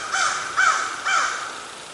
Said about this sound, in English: My friends the crows have joined me.